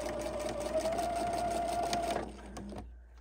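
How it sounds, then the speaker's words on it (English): A Husqvarna Viking sewing machine stitches a quilt seam with a quarter-inch foot, a steady rapid whirring hum for about two seconds before stopping, followed by faint clicks, close and fairly quiet. "And we are working on our Husqvarna Viking machine."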